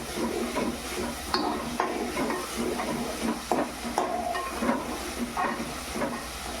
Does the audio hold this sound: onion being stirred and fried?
yes